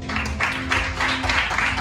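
A church congregation applauding during the opening of a church anniversary service, a sustained wash of clapping with a faint voice beneath it.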